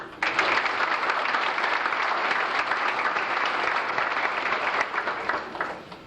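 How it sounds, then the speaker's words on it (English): Applause from a banquet audience at a 1998 high school FFA banquet in Casey County, honoring pork producers and kitchen helpers; dense, steady clapping fills the room for about six seconds and tapers slightly at the end. "I'd like for you at this time to give the pork producers and our ladies that helped us a round of applause"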